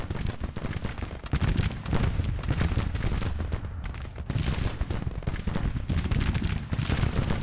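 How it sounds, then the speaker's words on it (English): Artillery in Grand Tactician: The Civil War fires grapeshot at cavalry, a dense continuous roar of cannon blasts and musketry rolling steadily and loudly throughout, with repeated sharp bursts layered over a heavy low rumble. "Great to fire a whiff of grape at this enemy cavalry, though."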